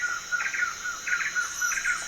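A garden toad sings in repeated short trilling bursts, about five phrases in two seconds, over a steady high insect-like hiss, fairly faint with no talking.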